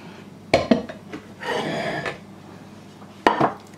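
A jello mold is turned over onto a plate: a sharp clink, a soft sliding rub as it shifts, then another knock as it settles, all close and fairly quiet.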